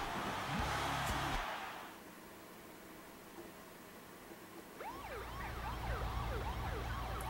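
Ambulance siren in a wrestling video game, a loud wailing siren at the start that fades into a low hum, then rises again with sweeping tones over engine rumble.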